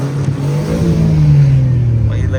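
A Maruti Alto fitted with a loud aftermarket silencer idles and revs steadily nearby, its engine drone strong and continuous, with people talking faintly underneath.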